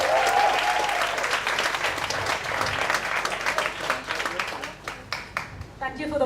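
An audience at a PechaKucha Night in Ubud, Bali applauds a speaker, a dense burst of clapping that thins toward the end as a voice begins.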